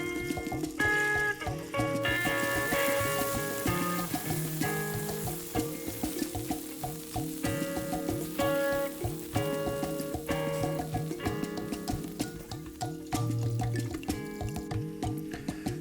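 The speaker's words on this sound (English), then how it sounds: "Oh, the oil is well hot, so we can drop the plantain" Green plantain pieces deep frying in hot oil sizzle and crackle loudly and steadily up close, with occasional bubbling pops and no one talking.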